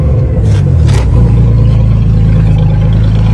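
A 1994 Ford Taurus wagon engine is held at high revs against its rev limiter, producing a loud, steady, close roar with a rough pulsing rumble underneath.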